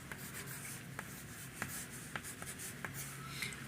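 A pen or marker scratches and taps on a surface, writing out a linear equation by hand in a maths lesson, with faint strokes and small ticks at an irregular pace and no talking.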